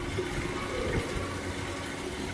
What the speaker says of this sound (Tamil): எனக்கு சுடு தண்ணி வைக்கிறதுக்கு தண்ணி பிடிச்சிட்டு இருக்காங்க